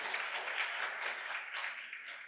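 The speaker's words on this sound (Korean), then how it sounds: "한 분 한 분 소개 올릴 때마다 큰 박수 부탁드립니다." An audience at a Korean lifelong-learning college case-sharing event claps for an introduced guest, a dense wash of many hands heard at moderate distance and fairly soft, with no speech.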